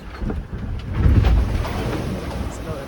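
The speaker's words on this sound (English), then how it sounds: "Man, these waves are gnarly." Big waves crash against a sailboat out at sea on the passage from Stavanger toward Korshamn, a rumbling surge of water swelling in the middle amid steady wind buffeting the microphone, with no voices.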